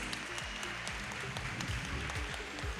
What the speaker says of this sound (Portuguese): uma salva de palmas para os nossos participantes